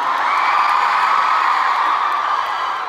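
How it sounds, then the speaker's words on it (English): A concert crowd at a K-pop encore in New Jersey screams and cheers in a loud, steady, high-pitched roar that holds for the whole stretch without a break. "You guys have been screaming a lot today."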